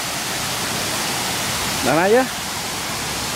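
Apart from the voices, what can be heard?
waterfall rushing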